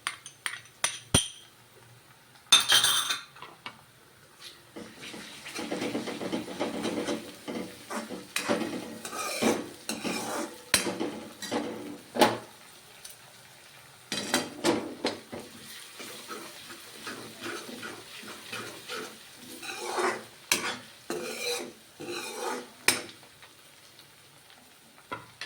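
Onions sizzle in a pan as crushed ginger and garlic go in for a cauliflower curry, with a soft steady frying hiss broken by repeated close scrapes and clinks of a spoon stirring against the pan.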